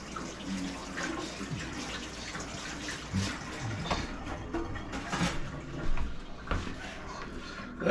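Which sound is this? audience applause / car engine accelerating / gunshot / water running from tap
water running from tap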